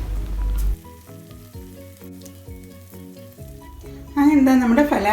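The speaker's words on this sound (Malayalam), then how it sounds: "ഇതുപോലെ നമുക്ക് ബാക്കിയുള്ള ഫലാഫലും ഗോൾഡൻ കളർ ആവുന്നവരെ ഫ്രൈ ചെയ്തെടുക്കാം." Falafel balls frying in hot oil until golden, a steady sizzle with stirring and clinking, rising into a louder, brighter hiss near the end as more go into the oil.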